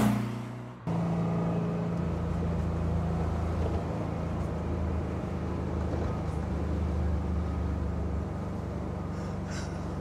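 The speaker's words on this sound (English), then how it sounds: "So first up, we take the 356 for a drive through the wonderful" A Porsche 356 homage is being driven through the countryside around Reigate. It has a chisel body on a Beetle floor plan and a 1600cc rear engine, which keeps up a steady droning hum after a brief start.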